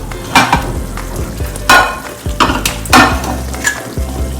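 Eight mutton trotters for leg soup being stirred in a sizzling pot, with loud, close scraping strokes in an irregular rhythm over continuous frying hiss.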